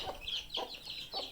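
A hen shut away from chicks clucks in three short, evenly spaced calls, faint and close, over quiet background noise.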